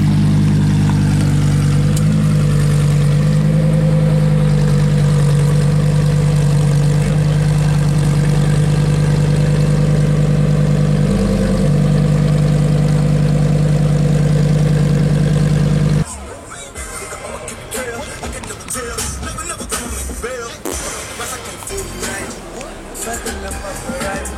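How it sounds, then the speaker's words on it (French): A car engine idles with a steady low rumble and hum for most of the clip at a Cars and Coffee meet in Luxembourg, then gives way to busier outdoor noise. "Je vous filme rapidement le moteur."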